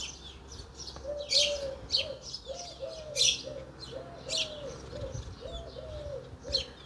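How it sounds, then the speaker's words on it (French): Small birds outdoors coo in a steady repeated low rhythm while brief bright chirps and tweets break in every second or so, moderately close against a quiet background. "on a un concert de petits oiseaux trop mignons autour"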